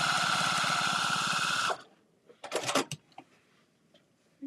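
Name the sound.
sewing machine running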